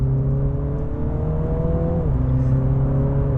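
MINI GP3 engine revving up through its 8-speed gearbox, a loud, steady rising drone from inside the car that drops sharply at a quick paddle shift and then climbs again.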